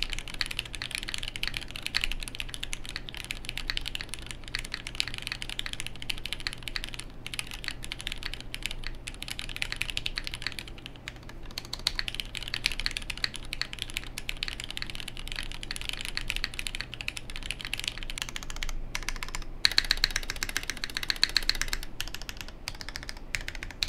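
Steady, continuous typing on a 75% mechanical keyboard with hand-lubed MX Black switches, dense overlapping keystrokes with a muted, somewhat dull clack, close and unbroken throughout.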